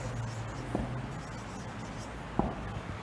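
Marker or chalk writing numbers on a classroom board during a maths lesson, a few quiet scratchy strokes with two sharper taps, over a low steady room hum.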